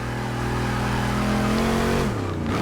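A Dodge Challenger Hellcat in Forza Motorsport 6 roars at high, sustained revs under load, then drops in pitch as the engine eases off near the end. The sound is loud and close, with no talking.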